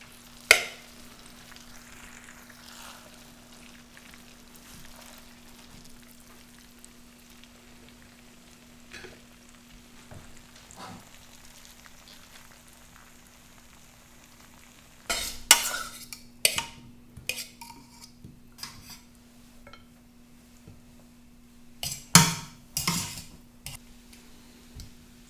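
Pasta carbonara is plated onto a dish: a long, quiet stretch with occasional small taps, then a cluster of clinks, scrapes and utensil knocks against the plate, close and fairly crisp, with no speech.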